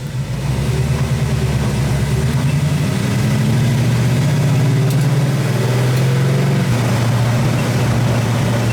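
A Ford GT40 engine runs at low revs on its first drive after restoration, a steady loud burbling drone with slight swells in pitch and no voices.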